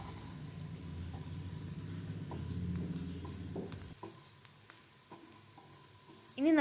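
Onions and chili flakes fry in a pan with a steady sizzle while a spoon stirs them, leaving faint scraping and clinks. The frying fades partway through, and a sharp clatter closes the clip.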